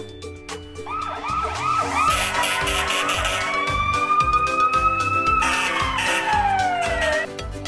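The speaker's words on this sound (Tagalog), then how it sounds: "fire truck" A fire truck siren wails loudly, rising and falling in sweeping tones, with a quick yelp pattern at the start and music underneath.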